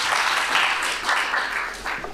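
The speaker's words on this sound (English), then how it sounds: "Give a round of applause to our panelists" Audience applause for panelists at a career-growth talk, a short, dense wash of clapping from a seated crowd, loud and even throughout.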